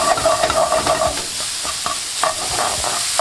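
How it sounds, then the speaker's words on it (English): Onions and garlic sizzle and are stirred in a pan with beef for spaghetti bolognese, a steady close frying hiss broken by repeated scraping strokes of the stirring utensil. "Alright, so now in with the onions and the garlic first. And we're just going to cook this off."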